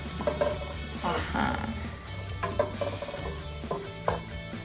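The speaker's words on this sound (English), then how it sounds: "Stir it and just let it saute for just a minute." Garlic sautéing in olive oil in a pan for courgette pasta, stirred with a utensil, a soft steady sizzle with scraping stir strokes, with talk and background tones throughout.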